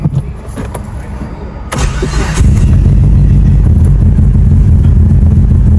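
A Mitsubishi Evo 8 with a PTE62 turbo starts from cold: a brief starter whir and a sharp catch, then a loud, steady, rumbling idle that holds close and unbroken to the end.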